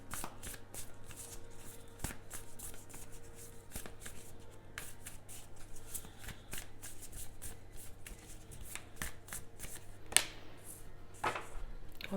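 An oracle card deck is shuffled by hand close to the microphone, with quick repeated riffling and soft slaps. A few sharper taps stand out over a quiet, steady background.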